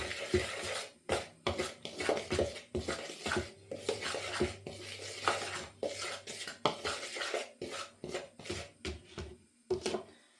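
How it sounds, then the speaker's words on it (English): Seasoned chicken is stirred in a pan with salt, pepper and paprika, a utensil clattering and scraping against the pan in quick, irregular knocks with a faint sizzle beneath, close and without talk. "And just give that a stir."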